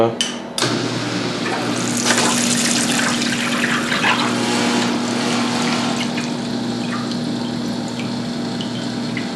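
Cold water gushing steadily into an irrigation rinse tank after a switch flicks on, a continuous close rushing flow with a faint pump hum beneath, starting abruptly and holding level throughout.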